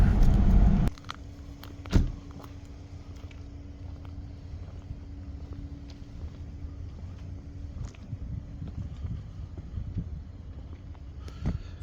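A car drives down rural back roads past open fields, a steady low rumble of road and engine noise with a faint hum and a brief thump near the start, no voices.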